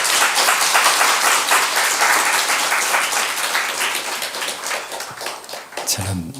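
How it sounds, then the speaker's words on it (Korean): Church congregation at a revival meeting clapping loudly and steadily to welcome a guest speaker, dense sustained applause that tapers slightly toward the end, with a low thud near the close. "우리 큰 박수로 강사님을 모시겠습니다."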